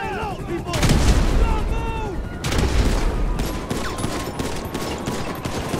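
Rapid bursts of gunfire and explosive booms from a GTA 5 shootout with grenades, loud and continuous in two heavy waves, with chaotic game effects layered throughout.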